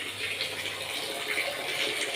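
Water from a solar-powered pump pouring steadily into a catfish farm pond, a close, continuous splashing gush with no breaks and no voices.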